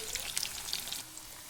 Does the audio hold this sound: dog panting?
no